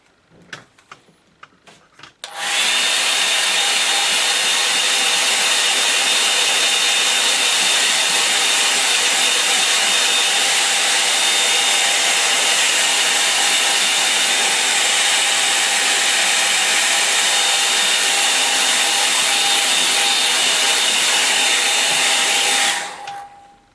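A hair dryer blows steadily and loudly on a figure, switching on after a couple of seconds of quiet handling and running continuously for about twenty seconds before cutting off.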